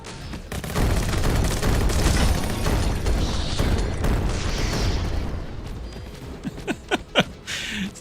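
Missile explosions in the battle royale video game Skillshot City, a dense continuous roar of blasts and booms for several seconds, then thinning into a few sharp separate impacts, loud and close, with no talking.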